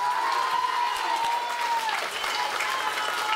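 A concert crowd applauds a singer with steady, full clapping, while a faint tone lingers beneath and scattered voices rise from the audience.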